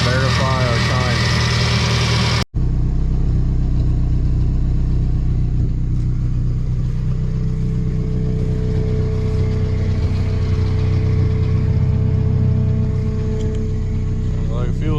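Nissan 240SX engine idling steadily, a low continuous rumble with a brief cutout near the start, close and constant while timing is checked.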